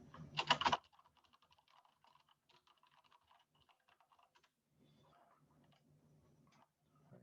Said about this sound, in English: press 6 on the keyboard